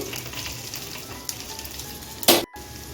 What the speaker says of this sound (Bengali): এখন ভেন্ডিটা ভেজে নেব নেড়ে চেড়ে নিচ্ছি তেলের সঙ্গে